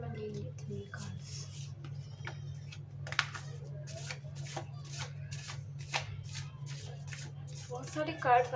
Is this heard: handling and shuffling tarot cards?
yes